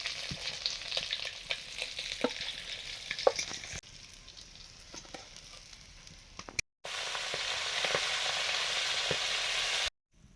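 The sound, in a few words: fish frying in oil in a wok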